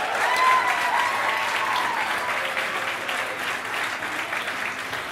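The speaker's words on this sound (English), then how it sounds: "Can we give them a round of applause?" A theater audience at a Compass Kids children's production claps steadily and warmly for the backstage tech team, a dense, sustained wash of many hands that stays loud and even throughout the whole stretch.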